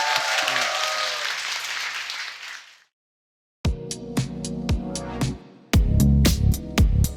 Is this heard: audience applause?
yes